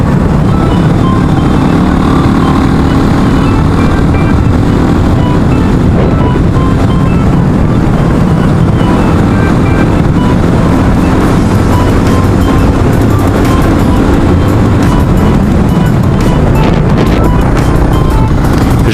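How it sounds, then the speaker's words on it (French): A loud, steady Suzuki DR350 motorcycle engine drone while riding on a Sunday outing, heavily mixed with rushing wind buffeting the microphone, continuous throughout. "ça fait du bien la moto le dimanche"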